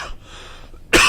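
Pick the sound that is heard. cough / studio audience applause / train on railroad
cough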